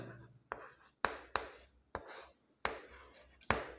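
Chalk or pen writing by hand during a Hindi physics lecture on electric current: a quiet run of crisp, tapping strokes, about seven in under four seconds, each fading quickly, with faint breathy sounds between them.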